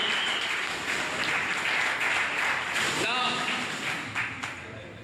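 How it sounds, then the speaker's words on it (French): Crowd at a regional political party rally applauding again after a speaker, a continuous wash of clapping with voices and cheers mixed in, fairly close. "applaudissez-le encore une fois"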